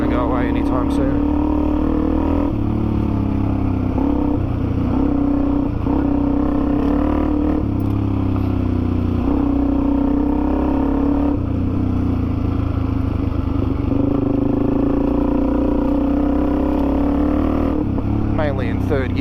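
A Suzuki DRZ400E dirt bike runs in third gear along a muddy forest track, its engine buzzing steadily with small rises and dips in pitch, while the rider talks over the motor.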